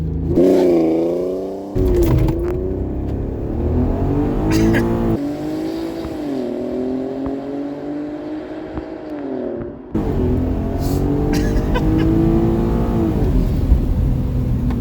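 A 2008 Audi TT VR6 engine roars hard and near during a launch-control start, revving up in repeated rising surges with sharp breaks between gear shifts.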